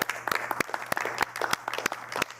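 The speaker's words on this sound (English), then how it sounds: "give yourselves a round of applause" An audience at an MIT IAP event applauds, giving a brief burst of dense, scattered clapping at moderate volume.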